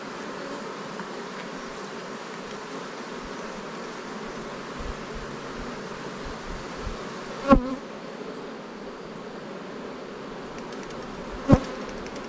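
Honey bee buzzing close by near its hive during a hunt for bees and a honey harvest, a soft continuous drone with a couple of sharp knocks, no talk.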